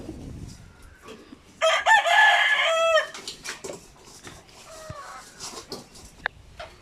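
A rooster crows loudly nearby in one long, wavering call, followed by softer clucking and scattered outdoor sounds.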